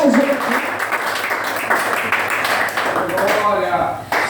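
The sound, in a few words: congregation applause in church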